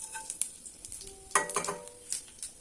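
Mustard, cumin and fennel seeds splutter in hot oil with scattered sharp pops and crackles, alongside light metallic clinks of a utensil against the pan, close and fairly quiet.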